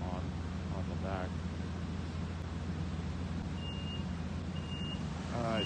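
Door-closing warning beeps of a Long Island Rail Road train at Speonk station, a repeated electronic tone sounding over a steady rumble of idling locomotives, with rising beep chirps near the start and end.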